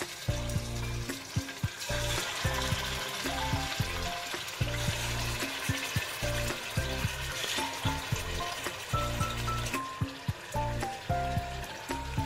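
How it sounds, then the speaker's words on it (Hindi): Pieces of meat for nihari going into hot oil in a pot, giving a continuous frying sizzle with repeated clattering stirs and scrapes in an irregular rhythm, close and fairly quiet, with no talking. "तो अब हम इसमें ये वाला गोश्त डालेंगे, और आपने बड़ी एहतियात के साथ डालना है क्योंकि ऑयल गरम होता है।"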